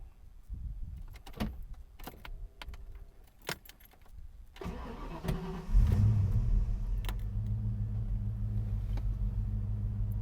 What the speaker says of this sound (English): Let's start up the car and take a listen.